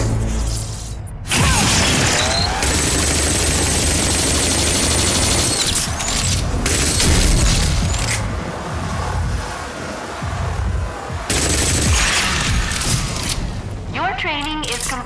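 Grav Dart Launcher overdrive blasts from Rage 2 crash out in loud, dense bursts of cracking and mechanical clatter against simulated enemies, with brief quieter gaps and a voice speaking over parts.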